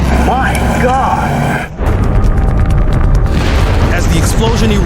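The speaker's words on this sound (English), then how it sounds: "As the explosion erupts, a powerful shockwave careens across the landscape" A massive chemical plant explosion, a sustained roaring boom with rumbling debris and crackling, loud and close, under excited voices and dramatic music.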